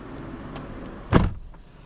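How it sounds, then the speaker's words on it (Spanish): On a 2005 Kia Sorento, a car door slams shut with one sharp, loud thud, close by, over a low idling hum. "Voy a cerrar la puerta."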